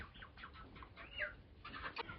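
A duck quacks softly in a farmyard, a few faint, scattered calls at a distance with low background noise and no talking.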